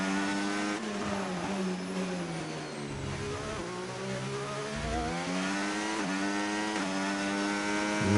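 An F1 race car in a Brazil Grand Prix racing game screams past, its high revving engine loud and steady throughout, with no talk.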